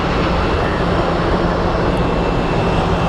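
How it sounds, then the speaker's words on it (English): A McDonnell Douglas MD-11 jet arrives at Phoenix Sky Harbor Airport, its broad, steady engine roar filling the air at close range with no talk. "We have an MD-11 coming in."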